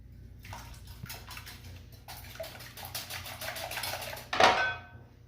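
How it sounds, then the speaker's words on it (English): Eggs being whisked for chocolate bread pudding: a quick, rhythmic metallic ticking of a whisk against a bowl, steady and fairly close, ending in a louder clattering knock. "Get all those eggs nice and whipped up."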